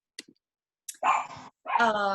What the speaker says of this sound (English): I hear the puppy.